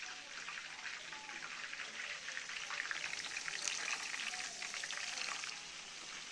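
Mutton kola urundai meatballs fry in hot oil, giving a quiet, steady crackling sizzle with soft popping that holds evenly throughout.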